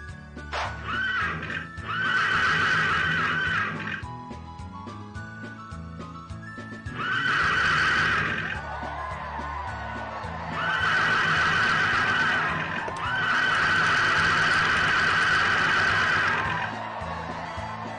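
Synthetic horse sounds from a horse race in the Harvest Moon: Back to Nature video game: repeated loud whinnies in four bursts over galloping clip-clop and game music.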